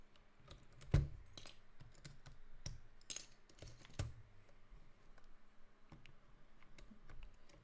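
Mechanical keyboard fitted with GMK Redacted keycaps, typed on close up in a quiet room with irregular bursts of crisp clacks and a louder thock near the start.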